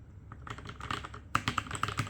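Typing on a Keychron K2 V2 compact wireless mechanical keyboard with brown tactile switches, a steady run of fairly muted, close keystrokes with a few sharper clacks toward the end, no voices.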